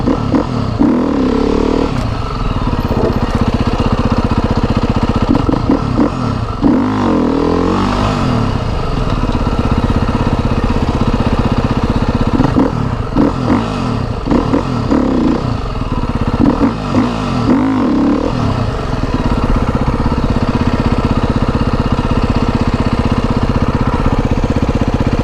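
A brand-new motorcycle with about 300 kilometres on it runs nearby, a loud, steady engine drone with repeated swells and dips as it is revved, no talking over it.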